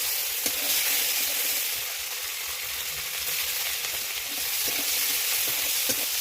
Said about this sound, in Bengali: ফোড়ন দিয়ে দেবো, পেঁয়াজ কুচি দিয়ে দেবো।